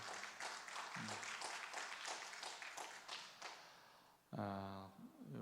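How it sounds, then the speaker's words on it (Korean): Quiet, distant applause from a congregation at a church worship service, continuous clapping that fades, then a voice briefly speaks near the end. "축하의 박수, 감사의 박수 전해드리겠습니다"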